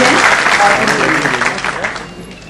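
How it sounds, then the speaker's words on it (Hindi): Audience clapping fills the hall at a women's education campaign launch event, a dense steady wash of applause that slowly fades, with a voice speaking faintly underneath. "तो अगर आप तालियां भी बजाएं उस पर तो बहुत अच्छा लगेगा"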